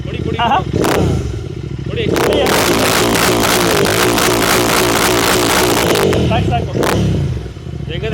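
A Royal Enfield Bullet motorcycle engine fires up with a loud clattering start and settles into a close, steady thumping idle, with people talking around it.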